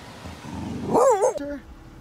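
A dog gives a single short, close bark-whine with a rising and falling pitch, heard from inside a Toyota Previa minivan camper, preceded by quiet background noise.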